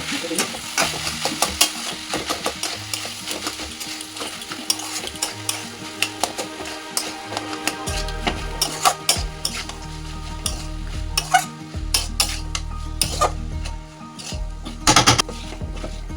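Boiled potatoes being mashed in a pan for vegetable chops, repeated scraping and knocking of a utensil against the pan over a low sizzle, with irregular louder clacks throughout and occasional background sounds.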